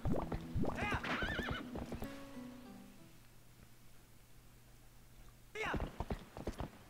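Epona, the horse in Zelda: Twilight Princess, neighs twice, near and clear, over faint in-game hoofsteps and background music, with a sustained tone between the whinnies.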